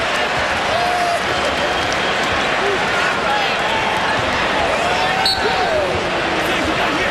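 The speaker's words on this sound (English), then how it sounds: "The crowd still buzzing over that" Crowd at a college basketball game between Marquette and Duke in 2007 keeps up a steady, dense arena buzz throughout, with ball bounces and sneaker squeaks faintly mixed in.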